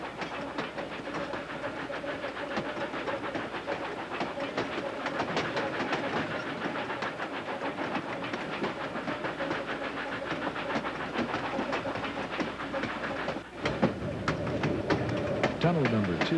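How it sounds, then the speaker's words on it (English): Steam locomotive of the East Tennessee and Western North Carolina Railroad labouring up a steep grade toward a gorge, a steady loud chuffing rumble with rail clatter throughout, a brief dip near the end. "The locomotive is starting to struggle against the grade."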